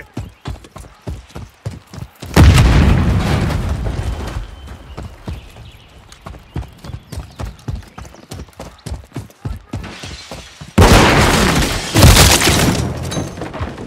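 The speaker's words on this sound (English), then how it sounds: "Throwing grenade!" Two loud grenade blasts in a Call of Duty: Modern Warfare III team deathmatch. Each bursts suddenly and fades into a long rumbling tail, over a constant patter of quick, rhythmic footsteps.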